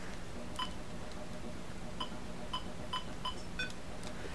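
Cheerful, high-pitched electronic beeps from a Fairchild Channel F game, sounding each time the player is attacked: about eight short, clean bleeps at irregular intervals over a faint steady hum, with no voices.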